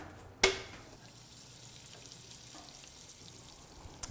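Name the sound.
corn tortilla heating in a hot pan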